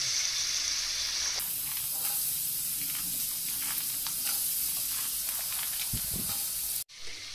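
Capsicum and beans sizzling in a hot pan for a vegetable pulao, a loud continuous hiss with crackling and stirring, cutting off abruptly near the end.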